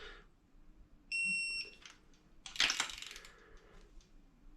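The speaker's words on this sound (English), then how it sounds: "on a snap-on torque wrench it has a yellow, green and red scale, so and then it beeps and vibrates" A Snap-on torque wrench gives a short electronic beep of about half a second as it reaches the set torque while a cylinder head is tightened in a workshop. A clack of metal on metal follows, with faint workshop noise throughout.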